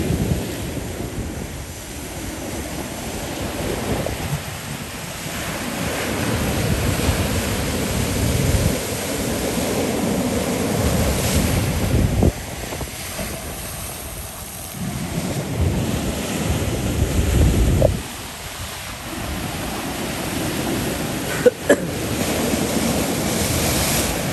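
Sea waves wash steadily onto the shore in Kalmunai, Batticaloa, a continuous loud surf roar with rolling swells and heavy wind buffeting the microphone.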